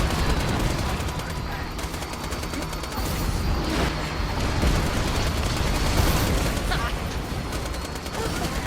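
Constant SMG fire in Borderlands, a continuous dense chatter of rapid shots mixed with explosions and game noise, with talking over the top.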